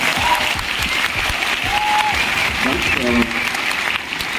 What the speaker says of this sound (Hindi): और मैं चाहूंगा जितने लोग हमारे खड़े हैं और जो स्टेज पे बैठे हैं, उनके लिए जोरदार एक तालियां होनी चाहिए।